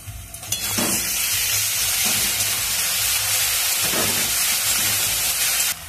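Onion and ground coconut paste frying in hot oil, a steady loud sizzle with stirring scrapes running throughout, close and continuous with no talking.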